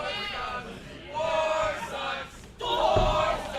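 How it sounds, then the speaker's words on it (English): A wrestling event crowd chanting in unison, a loud rhythmic roar of many voices rising and falling in two waves, with a brief dip in between. "Now listen to the crowd getting to the head of Warsaw with the War Sucks chant"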